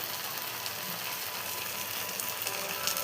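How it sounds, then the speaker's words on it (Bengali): Boiled Maggi noodles sizzling in hot oil in a pan for an omelette, a steady broadband fry hiss with faint crackles throughout, close and moderately loud, no talk. "প্যানে তেল বসিয়ে দিয়েছি, আর এই যে ম্যাগিটা ছিল সেদ্ধ সেটা দিয়ে দিলাম তেলের মধ্যে"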